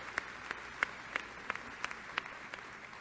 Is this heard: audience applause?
yes